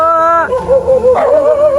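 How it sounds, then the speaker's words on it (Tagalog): A dog nearby gives a drawn-out, howling bark followed by whining yips, loud and close. "Naku, may aso pa."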